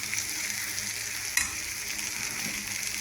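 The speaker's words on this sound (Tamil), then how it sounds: "இது பூசணிக்காவும் கொள்ளு பருப்பும் போட்டு ஒரு பொரியல்" Pumpkin and horse gram poriyal fries in a pan with a steady, close sizzle, a brief scrape of stirring breaking in partway through.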